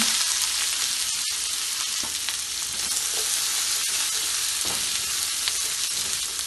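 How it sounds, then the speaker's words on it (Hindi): Cumin seeds and onion frying in hot oil for a tomato chutney, a steady dense sizzle running throughout with a few soft clicks of stirring, close and fairly loud with no talking. "जीरा डालें, प्याज डालें"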